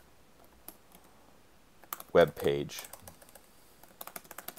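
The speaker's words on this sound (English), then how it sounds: "a little box appears, and you can start typing" Typing on a computer keyboard: scattered light key clicks, then a short burst of louder clatter and a quick run of taps at the end, while a person talks.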